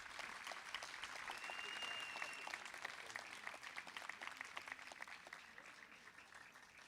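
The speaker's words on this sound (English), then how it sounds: "Can we have another round of applause for our outstanding graduates?" Audience applause at a graduation commencement ceremony for K-12 graduates, a steady wash of many hands clapping that fades gradually over several seconds, heard alone without talk.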